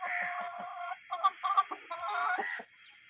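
An Aseel hen clucks close by in a run of short, throaty calls and brief cackles, fairly loud and alone without speech.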